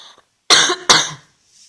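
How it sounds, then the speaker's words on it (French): Two sharp coughs from a woman, close and loud, spaced about half a second apart, with brief quiet before and after. "je suis désolée, hein, je vais pas arrêter de tousser"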